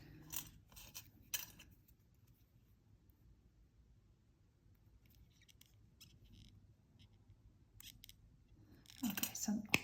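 Small, crisp snips of cutters trimming jewelry wire pieces to equal length for a wire-wrap necklace, with a few quick clicks at the start and a cluster at the end and near silence between.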